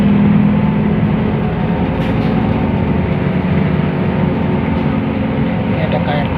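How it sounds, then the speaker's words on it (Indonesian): A KRL commuter train bound for Bogor runs past on an electric rail line, giving a steady, loud rumble with broad noise throughout, no clear approach or fade. "Ini ada KRL yang ke Bogor, lumayan sepi ya kalau sore ini"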